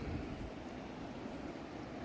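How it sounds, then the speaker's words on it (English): Ocean waves wash along the rocky coast of Pico Island in the Azores, a steady broad rush of surf with wind noise, continuous and even, with no voices. "listen to the ocean"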